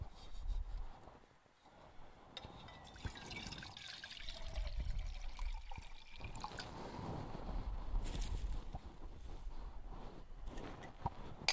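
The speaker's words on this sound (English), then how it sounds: "So let's get a couple cups of water in here." A couple of cups of water are poured into a camp cooking pot on an Emberlit stove fitted with a Trangia spirit burner, giving a close, uneven trickling and splashing that swells and fades over several seconds.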